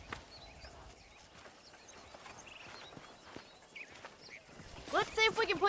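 Horse hooves clip-clop steadily in the Western video game Red Dead Redemption, moderately loud over an ambient game backdrop, with a brighter musical swell rising near the end.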